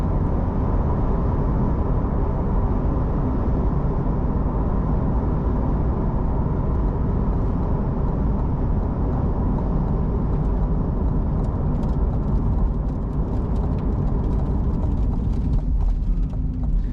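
A 2020 Chevrolet Corvette Stingray Z51 3LT drives along steadily, a dense, continuous engine and road roar filling the whole stretch at even loudness, with no talking.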